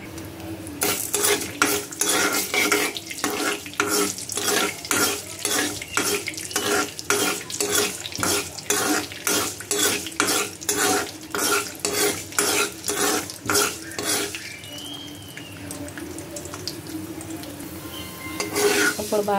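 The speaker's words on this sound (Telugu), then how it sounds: "ఇప్పుడు ఆయిల్ ఎక్కిన తర్వాత దీనిలో ఆవాలు, మెంతులు వేసుకొని ఫ్రై చేసుకుందాం" Mustard and fenugreek seeds fry in hot oil with a steady sizzle, while a spoon scrapes the pan in a regular stirring rhythm for most of the stretch. Near the end the scraping stops and only the fizz remains.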